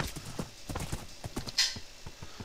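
A horse's hooves clip-clop at a quick trot in the video game Minecraft, a rapid, evenly spaced series of close, crisp knocks, with a brief brighter squeak partway through.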